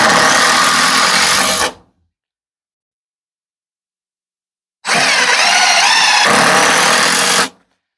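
A power driver sinks screws into a wooden roosting tree in two close, whirring bursts, the first about two seconds long and the second nearly three, separated by silence.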